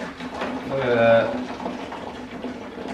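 Water mixed with potassium hydroxide drains from a valve on a homemade HHO generator, a steady gurgling trickle that swells briefly and then runs on, close and continuous, with a faint voice underneath.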